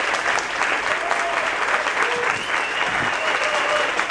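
A festival audience applauds loudly and steadily, a dense continuous wash of clapping filling the space, with faint murmurs and cheers mixed in.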